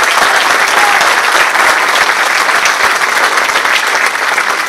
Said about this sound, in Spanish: un aplauso fuerte a los compañeros